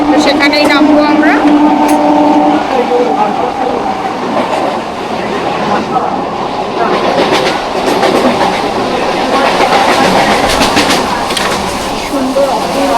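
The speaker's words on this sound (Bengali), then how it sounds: "তো বালি থেকে আমরা ট্রেনে উঠে গেছি।" Passenger train on the line from Bally toward Baruipara heard from inside, a loud steady rumble with clattering wheels and a brief tonal whine early on, while people talk throughout.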